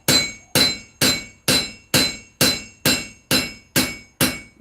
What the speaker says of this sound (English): It also makes the blade wider with the hammer out the edge